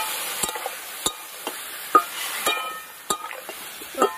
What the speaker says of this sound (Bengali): সবকিছু দিয়ে ভালো করে এবার একটু কষিয়ে নিতে হবে।